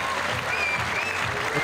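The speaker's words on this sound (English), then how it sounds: "the crowd are applauding." Crowd applause at a climbing World Cup lead final in Imst, a broad steady wash of clapping from a large audience, with voices faintly mixed in beneath.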